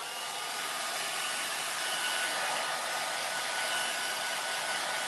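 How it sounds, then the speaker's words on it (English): A hair dryer blows steadily and close up, drying freshly applied aged wood stain on furniture, a continuous even whoosh without any break or speech. "Now we're going to take a hair dryer, and we want to dry our age spot"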